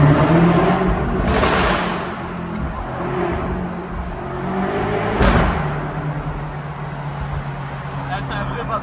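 A BMW M8 Competition with over 800 hp and an Akrapovic exhaust revs hard, its loud exhaust roaring in sharp bursts over a steady idle, with voices faintly in the background.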